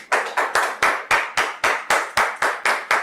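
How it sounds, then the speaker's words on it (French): Rhythmic, unison clapping from a church congregation welcoming a pastor, about a dozen sharp, evenly spaced claps in a steady beat, close and clear with no talking. "Nous recevons le pasteur sous vos applaudissements"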